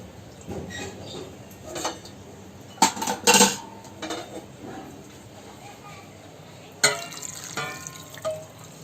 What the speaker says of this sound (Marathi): आता हे आपण बर्फाचं पाणी काढून टाकूया आणि आता याच्यामध्ये परत आपला पाक ओतूया